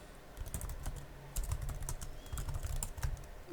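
Quiet, close typing on a computer keyboard: irregular bursts of soft key clicks with a few heavier taps, no voices.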